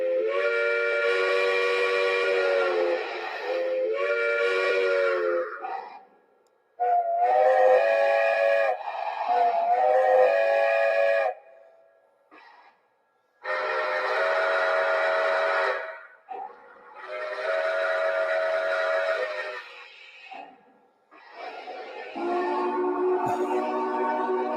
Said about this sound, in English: That's a big whistle for a little engine.